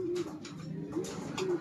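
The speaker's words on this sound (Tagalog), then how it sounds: "Wait lang, may kalapati bata sa taas eh." A pigeon on a rooftop gives three soft, low cooing calls in a row, close and fairly clear against faint background noise.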